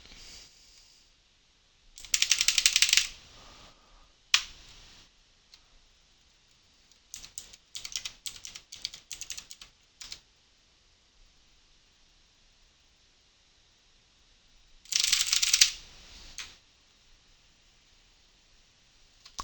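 Typing on a mechanical computer keyboard, loud clattering bursts of rapid key clicks at close range, separated by quiet pauses, with one burst early, a longer irregular run in the middle and another burst near the end.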